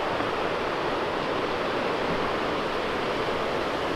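Los Alerces waterfall near Bariloche in Patagonia pours in a steady, dense roar of rushing water, loud and continuous, with no voices over it.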